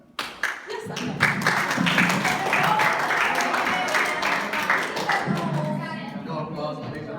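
A debate-camp audience breaks into steady applause after a youth speaker finishes, clapping building quickly and holding at a full, dense level for several seconds before tapering slightly, with a few voices mixed into the crowd noise.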